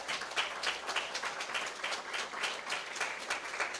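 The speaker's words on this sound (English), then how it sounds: "let's give another round of applause to our current chief," Audience applause for a town's current police chief at a State of the Town event, a steady even wash of many hands clapping at moderate level throughout, with no voices over it.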